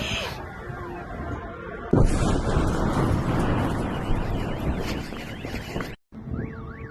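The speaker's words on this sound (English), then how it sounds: "that sounds like something very big just blew up over there, completely shook the ground" A large explosion from a drone attack near a Russian oil depot bursts suddenly and rumbles on as a heavy sustained roar, with siren-like tones and distant voices in the background.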